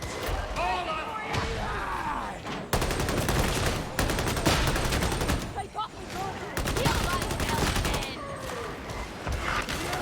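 Rapid gunfire from a player's gun in Warhammer 40,000: Darktide, loud bursts and volleys running through most of the stretch with game effects and a voice talking over them.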